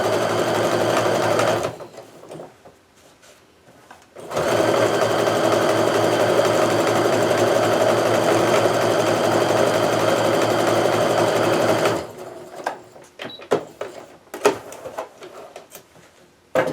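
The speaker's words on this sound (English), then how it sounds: "I'm gonna go ahead and sew my final little triangle on here" A sewing machine stitching a quilt triangle from Kaffe Fassett fabric, loud steady whirring runs in two bursts separated by a short pause, followed by fabric handling and small clicks.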